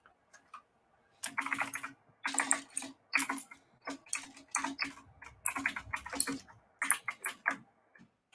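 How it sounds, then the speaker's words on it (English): Typing on a pink mechanical keyboard: bursts of crisp, rapid key clicks in irregular clusters with short pauses between them, close and fairly quiet, with no talking. "Pink mechanical keyboard, I might have you."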